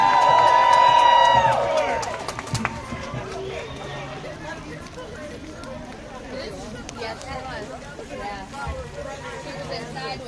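An outdoor crowd gathered in the rain cheers and claps, a loud whistle and cheers opening before settling into scattered applause and the babble of people talking.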